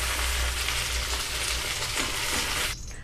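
Eggplant frying in hot oil for achari baingan, a loud, dense, continuous sizzle close up that drops away abruptly near the end.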